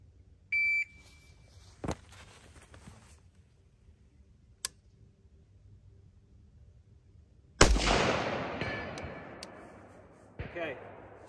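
A precision rifle fires a single sharp, loud shot during a timed position drill, its report decaying with a long tail, preceded by a short timer beep and a few faint clicks.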